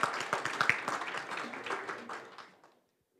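Audience applause at an awards gala for a municipal ranking, opening with sharp individual claps, swelling into a full round, then tapering off and fading to silence near the end.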